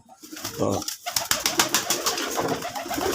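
Local running pigeons coo close by in a short series of soft, throaty calls, with some rustling and bird movement in the background.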